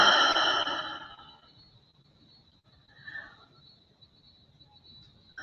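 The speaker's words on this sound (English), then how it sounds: "take a couple of cleansing breaths" A single deep, breathy exhale opens, loud and close like a long sigh, then fades into near-silence with only a faint steady hum and a brief soft breath midway.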